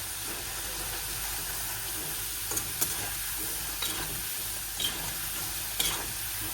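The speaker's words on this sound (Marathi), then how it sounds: "आता यांना मी डबल फ्राय करायला टाकले" Food is double-fried in a pan for crispness, giving a continuous close sizzle and hiss with brief stirring clatters every second or so and no talking.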